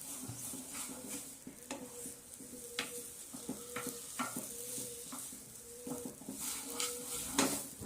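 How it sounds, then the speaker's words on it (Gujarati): A spoon scrapes and stirs kansaar roasting in a pan, with repeated clinking strokes against the metal and a light sizzle underneath, steady and close throughout. "2-3 મિનિટ સુધી આવી રીતે આપણે હલાવતા રહીશું"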